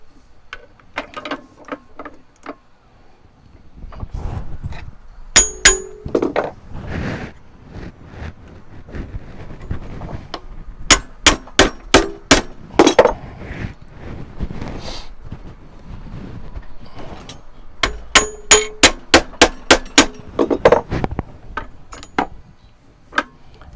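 Sharp metallic strikes from hammering thick, hard metal wire on a jeweler's bench. Close and loud, the blows come in quick rhythmic runs of several hits, separated by pauses and quieter handling noise.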